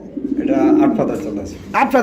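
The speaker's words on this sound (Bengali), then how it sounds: "এটা লাহরি কবুতরের জোড়া" A pair of Lahori pigeons coo in low, throaty, repeated phrases close by at a pigeon farm, with a sharper call near the end.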